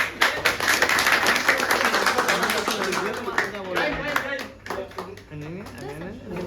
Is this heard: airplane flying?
no